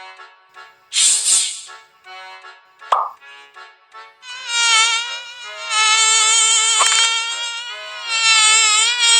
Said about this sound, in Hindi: मक्खी